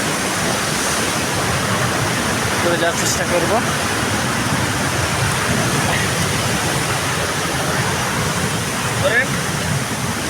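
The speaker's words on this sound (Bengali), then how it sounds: "এই যে ঝর্ণা, আমরা উঁচায় উঠবো" A waterfall's rushing water roars as a loud, constant broadband wash, close by and unbroken, while someone speaks briefly over it.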